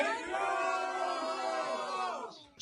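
A large crowd of hostages' families cheers and shouts together over a phone call, a loud, sustained roar of voices that holds steady for a couple of seconds and then cuts off abruptly.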